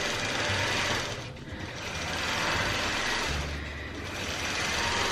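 A longarm quilting machine runs at a quilting workstation with a steady mechanical whir and hum, swelling and dipping twice as it works, fairly faint and with no talking.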